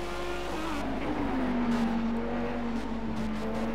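GT3 race car engines from Project Cars at the Sakitto circuit, including an Audi and a McLaren, drone steadily and close, with the engine pitch sliding down and holding through a continuous run.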